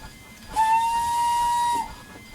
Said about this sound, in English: that's the whistle up there